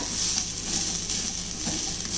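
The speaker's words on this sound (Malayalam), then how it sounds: "ഒരു നല്ല ബ്രൗൺ നിറമാകുന്നത് വരെ ഇത് വറുത്തെടുക്കാം." Grated coconut roasting on low flame in a pan gives a continuous soft sizzle, with occasional scraping stirs of a spoon against the metal.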